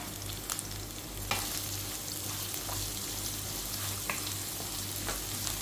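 Onion and carrot sauté in a pan, with a soft steady sizzle and a few faint scraping strokes of a spoon over a low background hum.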